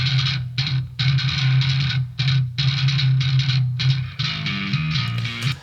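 A bass guitar line with a boost around 125 to 130 Hz, a thick, muddy low end playing in loud sustained phrases with short gaps, no voices.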